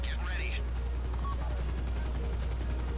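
Helicopter in GTA 5 Online, a steady low rotor drone running throughout, with gunfire-like mechanical clatter mixed in and a brief squeal at the start.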